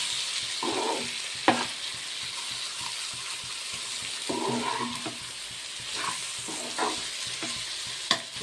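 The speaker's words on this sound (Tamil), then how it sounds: "இப்போ வந்து நல்லா கிளறிடலாம். நல்லா இன்னும் கொஞ்சம் நேரம் நல்லா எண்ணெயிலே வேகட்டும்." Chilli masala fries in oil for a Chettinad pirandai kuzhambu, with a steady low sizzle broken by several bursts of spoon-stirring scrapes and one sharp knock of utensil on pan, close by and without talk.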